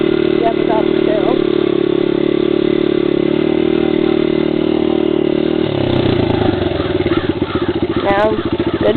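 A beginner's motorbike rides in first gear on a hill, its engine droning steadily up close before the sound shifts to a rougher, pulsing putter as the clutch lets out.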